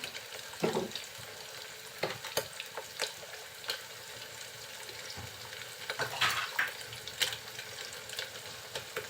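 Onions softening in a frying pan for a Bengali potato, yardlong bean and small shrimp curry, giving a soft sizzle with scattered stirring clinks and scrapes, a few louder utensil knocks standing out over steady low frying noise.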